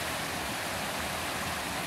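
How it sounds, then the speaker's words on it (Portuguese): Barrocão waterfall between Bom Jesus dos Perdões and Nazaré Paulista, a steady broadband roar of falling water that stays even and continuous throughout, close and fairly loud, with no voices. "essa é a cachoeira do Barrocão"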